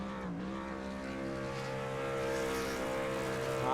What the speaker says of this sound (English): While he's doing his burnout